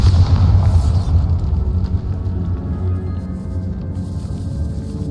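Bombarda spell blast in the Hogwarts Legacy video game, cast inside a decayed catacomb: one heavy, booming explosion with a deep rumble that rolls on and slowly fades, with no voices over it.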